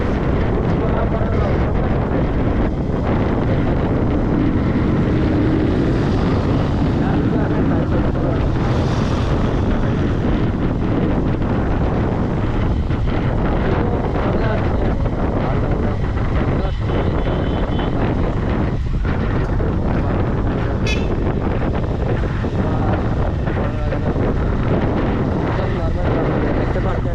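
Heavy wind buffets the microphone on a moving motorbike, a loud, unbroken roar lasting the whole stretch with no clear pauses.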